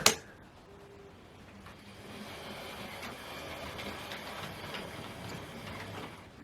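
A Hornby R30285 Fowler 0-6-0 Class 4F model locomotive in Somerset and Dorset livery runs along model railway track, giving a steady, soft mechanical whir with faint rhythmic clicking that holds at an even level after a brief sharp knock at the start.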